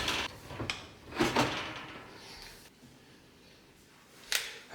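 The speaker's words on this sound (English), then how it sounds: "And then you lift it up and the door comes out" A JennAir wall oven door is lifted off its hinges, giving a few sharp metallic clacks and scrapes close by, then a quiet pause, then another single knock.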